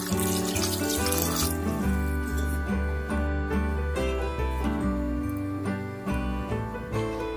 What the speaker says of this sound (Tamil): நம்ம இன்னும் கொஞ்சம் தண்ணி ஆட் பண்ணிக்கலாம்.